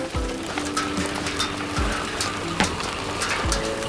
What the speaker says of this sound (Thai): ฝนตกทุกคนหนีฝนกันเร็วฝนเม็ดใหญ่มาก